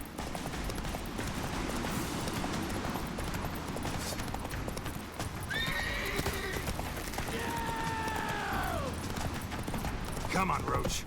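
Steady drumming of Roach the horse's galloping hooves in The Witcher 3 video game runs throughout under ambient noise, with a brief whinny-like call partway through and a voice speaking.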